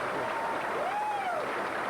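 Audience applause rings out at a 9-ball pro tour championship final, a steady wash of clapping from the crowd with a faint tonal whine running through it.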